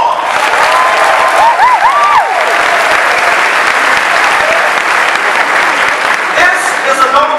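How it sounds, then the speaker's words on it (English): A large commencement audience at a spring university graduation breaks into sustained applause, a dense, loud wash of clapping that runs unbroken throughout, with a few brief cheers and whistles rising above it near the start. "Give yourselves a round of applause."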